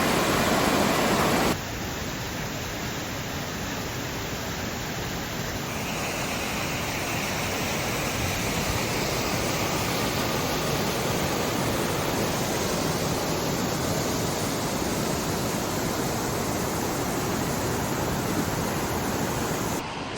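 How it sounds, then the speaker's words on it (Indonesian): Steady, loud broadband rush of a river on the Annapurna Base Camp trek in the Nepal Himalaya, continuous roaring water filling the whole stretch with no voices. "Kalau mau ke Jorali harus lewatin sungai ini."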